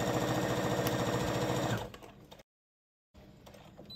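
Sewing machine stitching fabric for a flower pillow runs in a fast, steady close-up whir, slows and stops, then starts again after a pause.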